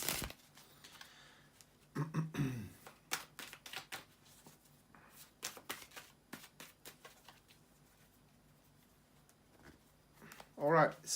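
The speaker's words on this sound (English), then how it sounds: "to shuffle the tarot cards" Tarot cards being shuffled by hand in a quiet room, giving soft, irregular flicks and riffles with a few louder clacks, while a voice speaks briefly in between.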